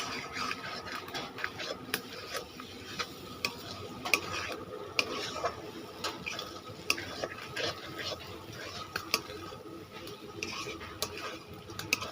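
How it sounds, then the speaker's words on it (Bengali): Masala and previously fried potatoes stirred briskly in a pan for a restaurant-style mushroom curry, a busy mix of low frying sizzle and frequent clattering spatula strikes on metal throughout, no talking. "মশলাটাকে কষিয়ে নিয়ে ছেড়ে দেব ভেজে রাখা আলুগুলো"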